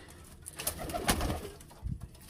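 Female pigeons in a pigeon house give soft, faint coos in a few short bursts over quiet background hiss.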